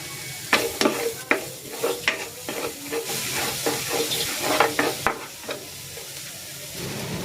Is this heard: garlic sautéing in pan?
yes